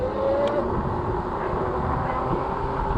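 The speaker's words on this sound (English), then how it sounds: "That's the road noise they're talking about." Loud, steady rumble of all-terrain tires rolling on pavement beneath a Super 73 e-bike, a broad continuous roar that fills the whole stretch with no talking.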